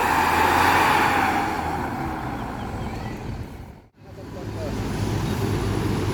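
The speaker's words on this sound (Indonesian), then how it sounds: "mulai meninggalkan terminal, bus Sembodo ya, medium bus menuju Kota Solo" A Sembodo medium bus pulls out of a bus terminal, its engine rumble loud and close at first, then easing off and briefly dropping away before the ambient terminal traffic noise swells back.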